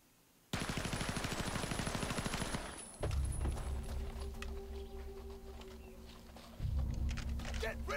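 Rapid bursts of gunfire in a Resident Evil 0 cutscene, dense volleys starting abruptly and giving way to heavy, rhythmic shots with voices beneath.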